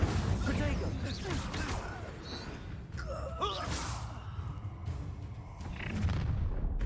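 A fire spell cast in Hogwarts Legacy, a whooshing burst and crackling rumble set against dense game combat sounds and booms, with voices talking over the action.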